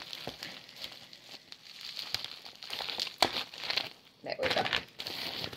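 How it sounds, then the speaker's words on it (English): A knife slicing packing tape on an AliExpress parcel gives close, crinkly plastic crackles and scrapes with a few sharper tearing bursts, busy and uneven across the whole stretch. "My knife didn't want to cut the tape there for a second"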